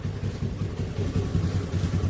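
A new Honda Dio scooter's engine runs in a low, steady rumble that holds at an even level throughout, with no voices over it.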